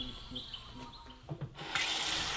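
Tap water runs through a 20 micron paper cartridge filter in an off-grid container home: after a few faint clicks and knocks, a steady bright rush of flowing water starts and continues.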